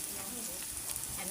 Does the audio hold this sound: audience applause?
no